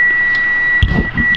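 A multimeter's continuity beep sounds as its probe touches ground on a Toyota Avanza F651: one steady, sustained high tone runs throughout, with a few soft handling knocks partway through.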